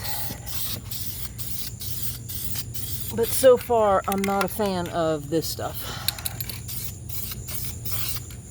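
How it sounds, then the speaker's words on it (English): Spray paint hisses steadily onto the barrels of 2004 Saturn VUE Redline wheels, a continuous close, airy rush with a voice talking briefly over the middle. "It doesn't spray like what I'm used to."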